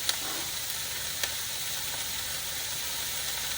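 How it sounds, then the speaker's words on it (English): Chopped vegetables for fried rice sizzle and saute in a hot pan: a steady, even hiss with a few faint stirring clicks, and no voices. "So these are all the veggies I cut up earlier, and I'm just sauteing them a little bit."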